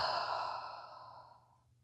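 A single slow, audible exhale during a yoga breathing exercise, close and soft, tapering away over about a second and a half with no talking.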